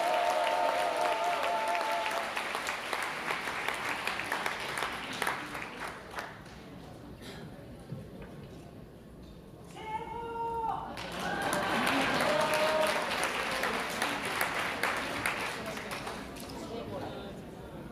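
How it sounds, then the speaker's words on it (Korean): A church congregation claps in praise, the dense applause swelling and fading in waves, dipping in the middle while a voice speaks briefly, then rising strongly again before tapering off. "다시 한번 하나님께 영광의 박수를 드리겠습니다"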